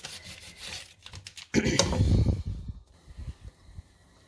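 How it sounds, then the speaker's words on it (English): A knife cuts raw meat into cubes on a board for Ghana jollof stew, giving close scraping and thudding chops that bunch into a louder burst midway, then lighter irregular cuts. "I'm going to cut it into cubes."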